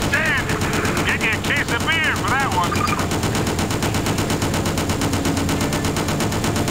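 A vehicle weapon in the video game Just Cause rattles out dense, unbroken machine-gun fire at close range. The loud rapid bursts continue throughout, and chirping electronic tones sound briefly near the start.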